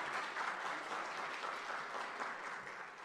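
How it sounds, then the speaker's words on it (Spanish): Audience applause at a panel discussion on women's leadership in Panama, a steady wash of many hands clapping throughout, moderately distant and even. "Amanda Destro, un aplauso por favor para ella."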